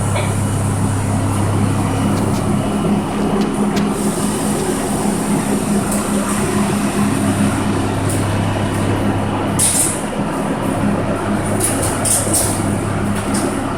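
A subway train rumbles steadily with a low engine drone and faint rattling, moving along the track with no voices.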